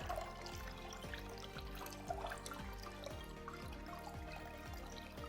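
Clean purified water rinses strained red berries, a steady running trickle with soft drips and splashes, close and fairly quiet throughout, no voices.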